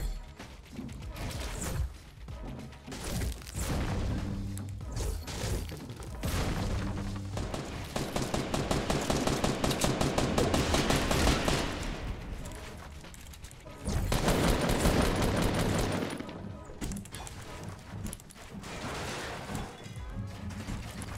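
Rapid bursts of mounted turret gunfire in the Fortnite Battle Royale video game, loud and dense, with sustained automatic firing broken by short pauses and mechanical clatter.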